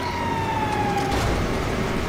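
A fire truck siren in the video game GTA 5 wails steadily and loudly with a sliding tone over a constant engine and road rumble, heard alone for about two seconds.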